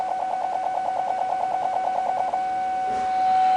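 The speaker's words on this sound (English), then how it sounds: "the beeping will get louder, and it'll become permanent when we're about to hit the vehicle" A 2010 Chevrolet Suburban LT's rear parking sensor beeps steadily and rapidly in a regular series for about two seconds as it reverses toward another vehicle, then stops.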